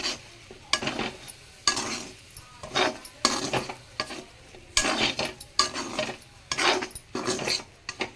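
Meal maker chunks and chopped coriander being stirred in a pan, a repeated scraping, rasping rhythm with light sizzle, close and fairly clear, no voices.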